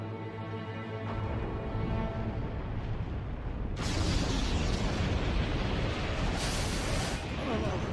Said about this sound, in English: The explosion's starting.